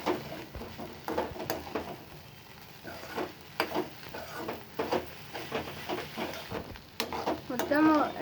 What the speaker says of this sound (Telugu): చూడండి, ఇట్లా ఫ్రై అవుతుంది, ముద్దలు ముద్దలు పోయి మంచిగా విడివిడి అవుతుంది.